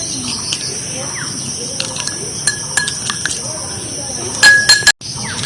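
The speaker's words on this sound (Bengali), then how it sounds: "আর 2-3 মিনিট আমি নাড়িয়ে ঠান্ডা করে নিয়েছি" A spoon clinks against a bowl while a warm home remedy mixture is stirred to cool it, giving scattered light taps and a quick burst of clinks near the end, with birds chirping faintly in the background.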